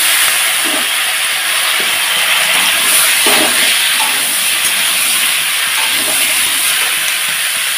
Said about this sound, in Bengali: দিয়ে দেবো এখন কেটে রাখা আলু আর বেগুন।